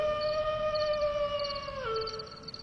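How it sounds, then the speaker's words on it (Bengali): Jackal howling close by at night, a long tonal wavering cry with layered harmonics that bends downward near the end, heard alone over faint background noise. "কাছেই শেয়াল ডেকে উঠল।"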